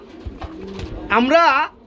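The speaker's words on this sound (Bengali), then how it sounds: "আমরা এখানে দেখতে পাচ্ছি বন্ধুরা খুবই চমৎকার মধ্যে এক ধরনের শার্ডিং কবুতর রয়েছে" Pigeons at a pigeon market give a loud, close, warbling coo that swells for about half a second after a quieter stretch of low background murmur.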